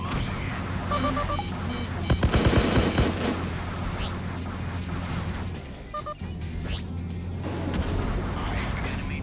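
A missile strikes an asteroid in the space combat game Freelancer, setting off a short burst of crackling explosive impacts. A steady engine-like hum continues underneath, with a few fainter blasts afterward.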